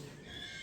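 A young horse gives a brief, moderately loud neigh against a steady background hiss, lasting well under a second.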